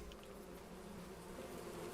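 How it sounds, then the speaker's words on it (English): Bees buzz continuously at a steady level in the Farming Simulator 25 video game, a soft ambient insect hum with no talk over it. "there's a bunch of bees over here that you start out with if you do the starting farm"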